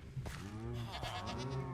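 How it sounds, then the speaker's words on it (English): A goat in the video game Minecraft gives short, nasal bleats, two or three quick calls in under two seconds, heard fairly faint and alone. "Oh, we've also got goats now as well, which are like completely useless."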